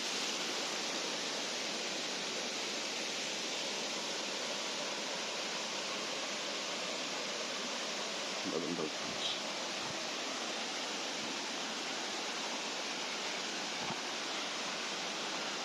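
Steady rushing water of a stream near a living root bridge in Meghalaya, a constant hiss-like roar that continues unbroken, with a couple of faint knocks partway through.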